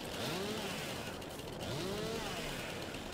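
A chainsaw in Farming Simulator 22 cuts down a tree with a steady, dense roar, the engine pitch sweeping up and down as it bites into the trunk.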